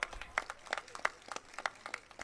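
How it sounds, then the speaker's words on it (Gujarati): An audience at a political rally in Gujarat claps in a sparse, scattered patter of individual hand claps, fairly faint and irregular over a couple of seconds. "સૌ માટે એકવાર જોરદાર તાળીઓ"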